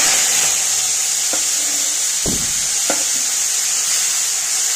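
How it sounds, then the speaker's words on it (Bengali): Mutton fat fries lightly in hot oil, a loud, steady close sizzle broken by a few sharp stirring clinks and scrapes. "আমি চর্বিগুলো না একটু হালকা ভেজে নেব।"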